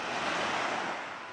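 Ocean surf on a Maui beach, a soft continuous wash of breaking waves with some wind rumble on the microphone, fairly faint and easing slightly toward the end, with no voices.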